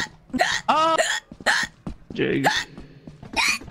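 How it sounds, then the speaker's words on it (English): Several sharp hiccups break up excited speech during a Lethal Company game session, sounding close and mixed among short spoken bursts and gasps. "I got the hiccups."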